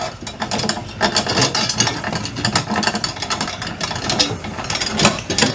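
Ratchet wrench turning bolts while mounting an RV roof air conditioner, giving a steady, close, continuous run of rapid clicking pawl sounds with metallic rattling and no talk.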